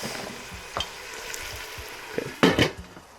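Chopped tomatoes cook face down in a hot pan with a light, continuous sizzle. A few soft taps are followed by a louder clatter of a utensil against the pan near the end, and no one talks.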